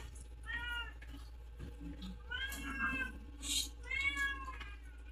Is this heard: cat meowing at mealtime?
yes